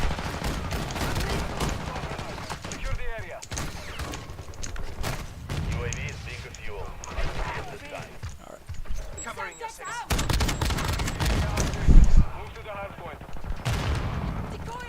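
Rapid bursts of gunfire ring out in a Warzone 2 match, clustered volleys and single shots recurring across the stretch, with players talking over the action.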